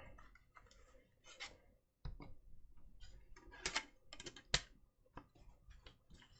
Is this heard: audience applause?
no